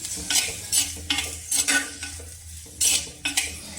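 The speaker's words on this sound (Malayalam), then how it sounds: "കുറച്ച് ഉപ്പും കൂടി ഇട്ട് നമുക്ക് നമ്മുടെ സവാള നന്നായിട്ടൊന്ന് വഴറ്റിയെടുക്കാം" Onions sautéing with a pinch of salt in a pan, heard as soft sizzling broken by repeated scraping stirs of a spatula, several short strokes close up with no talking.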